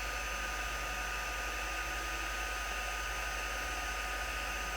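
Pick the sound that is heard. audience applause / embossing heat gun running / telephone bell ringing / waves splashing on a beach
embossing heat gun running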